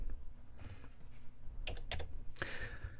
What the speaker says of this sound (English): let's type 15 into the width